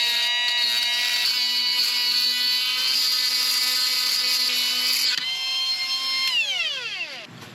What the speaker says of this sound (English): the die grinder is rotating around it instead of cutting it off